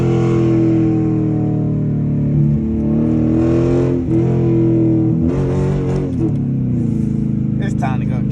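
A straight-piped Dodge Charger RT driving at night, its exhaust a loud, continuous deep drone that rises and falls in pitch with throttle changes, heard close from inside the car.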